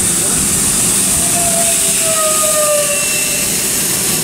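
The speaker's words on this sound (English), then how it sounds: "now departing is going to be the 1014 Southeastern service, sorry, 1016 Southeastern service to Margate." A Southeastern Class 395 high-speed train at Stratford International on HS1 fills the platform with a loud, steady rumble and hiss, joined by a thin rising whine as it moves.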